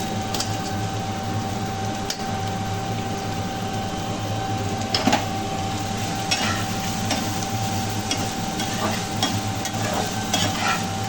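Chopped onions frying in a pan for chicken tarka, with a steady loud sizzle and scraping, clinking strokes of a spoon stirring through them at irregular intervals.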